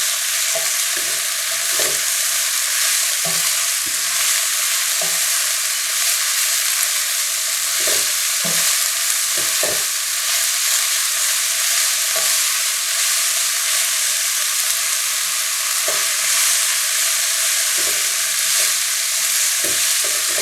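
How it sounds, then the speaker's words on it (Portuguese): Shimeji mushrooms fry in a very hot pan, giving a steady, loud hiss of sizzling oil, punctuated by repeated soft scrapes and taps as they are stirred constantly. "esse shimeji vai soltar a água dele e vai fritar, porque a temperatura dessa minha frigideira tá bem alta"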